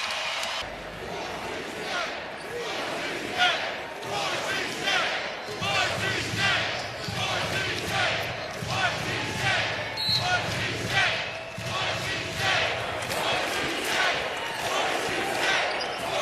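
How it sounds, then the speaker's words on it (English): A basketball arena crowd in Boise roars and cheers as Boise State finishes a 68-57 home win over Utah State, a dense, sustained wall of noise with bursts of yelling and rhythmic surges throughout. "Crowd here in Boise gets to celebrate another home win."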